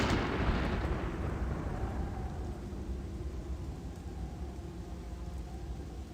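Gothic II chain lightning spell going off as a loud, booming crackle that surges at the start and then slowly rumbles and fades like thunder, heard alone without talk.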